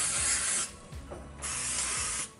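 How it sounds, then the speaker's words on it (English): Three short hissing bursts of coconut oil cooking spray onto a waffle maker, close by, separated by brief pauses with faint clicks. "I'm gonna grease each side with my coconut oil spray."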